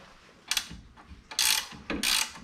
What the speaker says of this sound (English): And there is space to get a ratcheting wrench in on both of those.